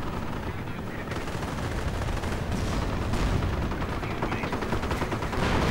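Artillery and gunfire crash through a World War II tank battle in a strategy video game, with Panthers facing Shermans. Dense, continuous volleys of shots and explosions run loud throughout without any pause.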